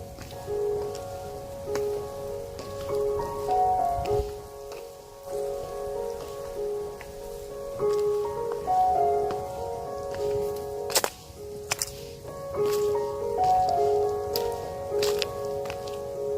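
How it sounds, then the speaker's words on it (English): Rain patters steadily on leaves and ground in Birdwood Gully, a forest gully in the Blue Mountains, with birdsong ringing through and occasional nearby rustles and footsteps. "it's starting to rain"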